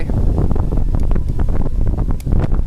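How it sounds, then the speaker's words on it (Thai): Strong wind buffets the microphone outdoors beside a large pond during cold-season cast-net fishing, a loud continuous roar with rumbling gusts throughout. "โอ้ย ลมลม"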